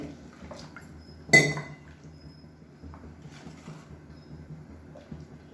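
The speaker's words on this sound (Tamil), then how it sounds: "நான் வந்து இன்னும் கொஞ்சம் தண்ணி சேர்க்குறேன், ரொம்ப கெட்டியாக இருக்குது." Water added to thick tomato salna in a pan, a sharp splash and clink of utensil on metal, then quieter stirring scrapes and light taps that continue close by.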